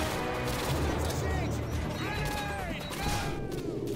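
Dense gunfire and battle noise in the video game Modern Warfare 2, a continuous loud barrage of shots with a grenade going off amid the firefight.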